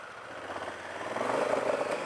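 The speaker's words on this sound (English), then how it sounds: "You hear that exhaust pulling the power." A Honda Africa Twin DCT motorcycle's exhaust under power, a mid-pitched engine drone that rises slightly as it pulls, heard steadily through wind and road noise without talk.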